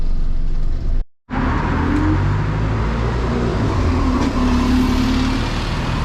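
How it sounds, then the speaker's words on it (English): A route 195 bus pulls away from a stop near Half Acre Road in Hanwell, London, its diesel engine rumbling loudly and steadily up close after a brief dropout, with shifting gear tones as it accelerates. "So there goes our 195 bus."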